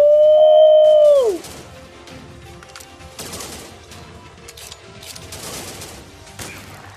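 Sniper rifle fire in the Commando War Army war game: a falling whistle-like tone opens, then a few sharp, moderately loud shots crack out at irregular intervals over a busy background.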